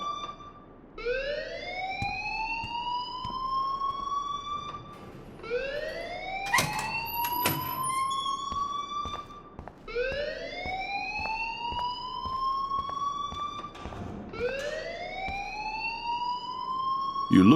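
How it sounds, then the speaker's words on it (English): School alarm in Life Is Strange blaring as rising, wailing sweeps that repeat every few seconds, loud and steady with faint background noise and no talking. "please turn off that alarm since that's your job"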